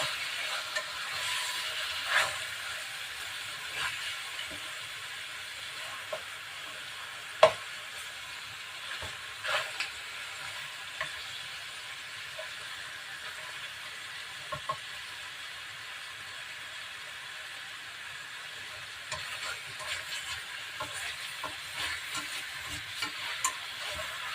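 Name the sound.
sautéing crushed black pepper in a pan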